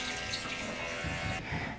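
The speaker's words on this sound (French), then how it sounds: "Il y a assez d'eau dans le bain" Water running and splashing into a filled bathtub, a steady close rushing wash with a slight shift in tone partway through.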